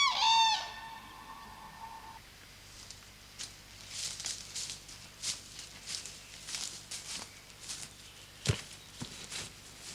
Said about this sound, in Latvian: Un tikai purvā dzīvo dzērve.